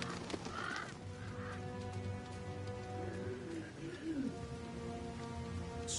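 Rain falls in the video game Diablo IV, a steady soft patter under ambient game sounds, with faint crow-like calls and low rumbles scattered through it.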